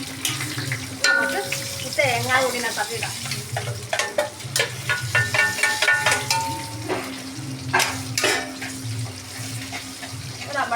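Mustard seeds and dried red chilli halves sizzle and crackle in hot oil for a Kerala-style koottu curry tempering, a loud, continuous frying hiss with sharp pops and occasional stirring clatter, up close, with no talk.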